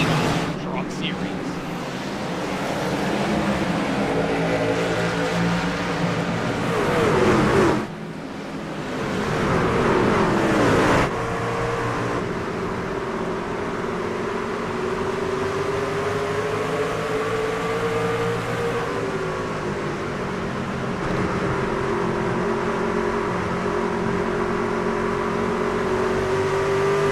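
Racing truck engines drone and whine continuously in a truck series racing video game at Indianapolis Raceway Park, with sustained rising and falling engine tones and a brief dip, under a commentator's talk.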